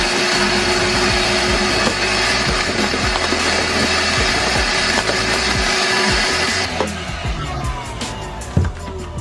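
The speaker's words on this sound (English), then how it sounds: "Probably just vacuum it all out so I can see clearly." A loud vacuum cleaner sucking up debris from a bus floor roars steadily up close, then cuts off near the end, leaving a few faint clunks.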